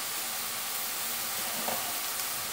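Tomatoes sautéing with a little salt in a pan for a Tamil soya dish give a steady, fairly faint sizzle and hiss throughout, with no talking.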